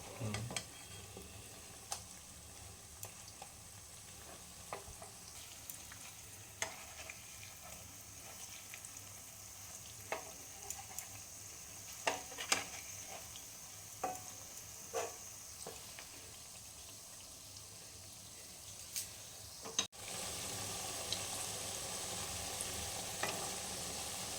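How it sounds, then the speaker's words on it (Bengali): Oil sizzles softly and steadily under frying fig fritters, with scattered light clicks and scrapes of a utensil turning them in the pan; no voices. "পরের পিঠটা ভাজার জন্য।"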